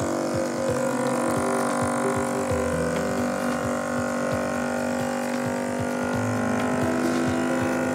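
A commercial automatic vacuum sealer with a reservoir runs its vacuum cycle, giving a loud, steady mechanical hum with a constant pitch and faint ticking, continuous throughout with no speech.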